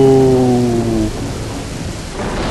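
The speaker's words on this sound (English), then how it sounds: "And now it's raining at night" Night rain and thunder in the Dreamcast game Shenmue, a steady heavy wash of rainfall with a low rumble and a fading tonal hum, loud and close with no voices.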